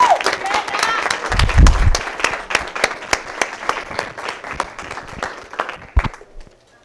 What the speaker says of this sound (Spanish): démosle un aplauso a Jimena Casillas